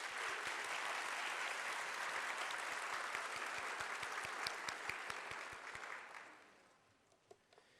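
A crowd applauds the newest Vineland Public Schools National Junior Honor Society inductees at their induction ceremony. The clapping is steady and full for about six seconds, then thins and fades to a few scattered claps.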